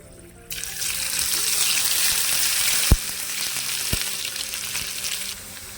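A second batch of potato chips fries in hot oil, a loud continuous sizzle and hiss close by, with a couple of sharp knocks as the pan or utensil is touched.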